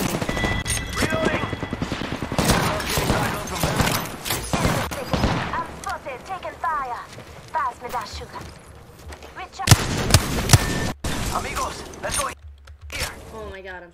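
Apex Legends gunfire crackles in dense bursts and rapid volleys, mixed with reload clicks and impact crashes, while players talk over the shooting throughout.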